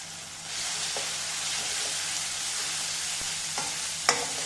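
Fish curry masala with tomato sizzles steadily in a pan while being stirred, with a continuous close frying hiss broken by a few sharp spoon scrapes and clicks near the end; no talking.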